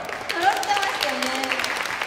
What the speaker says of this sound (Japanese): 今のが揃ってたという方、拍手お願いします。